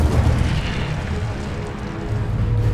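A rumbling burst of fire from the Incendio spell in the Hogwarts Legacy video game, heard as a continuous low roaring boom that fills the short clip.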